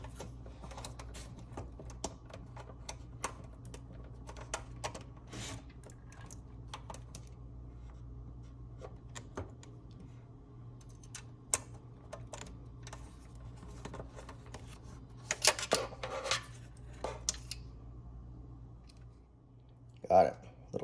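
Small screws being tightened into an Asus ROG Strix RTX 3080 graphics card during installation, heard as scattered faint clicks and scrapes with a few louder metallic ticks near the end, over a steady low hum.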